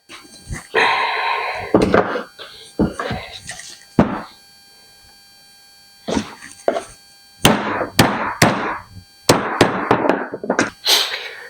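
Hammer blows tapping tight steering rack parts into place on a Factory 5 Racing roadster kit car in a garage, a series of sharp close thunks and whacks in uneven bursts with short pauses.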